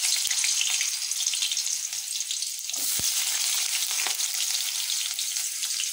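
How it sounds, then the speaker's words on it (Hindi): Diced potato pieces fry in hot oil for an Odia banana-flower dish, giving a steady, close hiss of sizzling with a few soft stirring scrapes and no voices. "तेल गरम हे गलानी एबे आमे आलू भाजीबा।"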